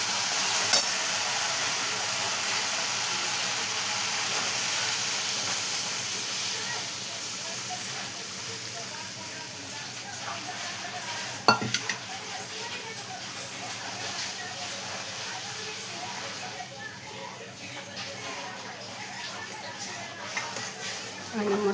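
A besan flour mixture is stirred in a frying pan, giving a continuous soft hiss and scraping with an occasional clink, fairly constant throughout, with no talk over it.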